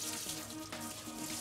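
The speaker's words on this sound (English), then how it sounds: "So what I'm going to do now is just rinse off the dust and the starch." Cold water gushes from a kitchen tap over rice being rinsed, a steady close hiss of splashing with a brief surge partway through.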